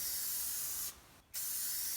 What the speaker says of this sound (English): about a foot and a half away, and I'm spraying over.